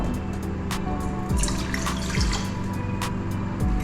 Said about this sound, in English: we're going to add 1 cup of water into a bowl